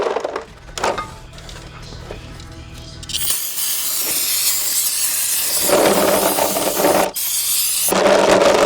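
Oily bolts from a B58 engine build for a BMW 340i are rubbed clean with a rag, giving close, scratchy wiping strokes in uneven bursts, quieter at first and then louder and steadier.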